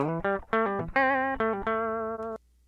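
Dry electric guitar with no amp simulation, a short run of clean sustained notes picked one after another, close and clear.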